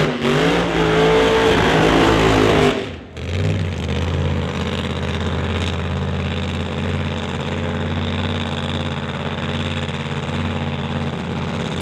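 A supercharged Shelby Mustang drag racing car revs loudly at the strip, then settles into a heavy, loping idle with a steady deep rumble as it rolls toward the water box.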